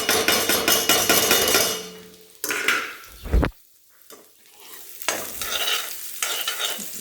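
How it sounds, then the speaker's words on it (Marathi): Onion goes into hot oil for poha and fries with a loud broadband sizzle, then clattering and spoon scrapes as the hiss dips and returns, close up with no speech. "तेल गरम झालं, आता आपण कांदा पण टाकू"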